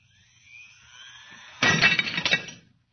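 Glass shatters as a radio drama sound effect, a rising eerie tone ending in a sudden loud crash and a second of tinkling shards, then silence.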